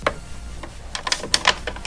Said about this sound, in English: I like to put one screw in the top just to hold the bracket.